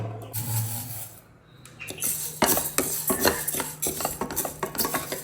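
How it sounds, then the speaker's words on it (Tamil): Dry rice is roasted in a pan and stirred, with a quiet stretch first and then repeated scraping, rattling strokes of a utensil against the metal, close and fairly busy. "அரிசியை வந்து இதுக்குள்ளே கொட்ட போகிறோம் அரிசியையும் வறுத்தெடுக்கணும்"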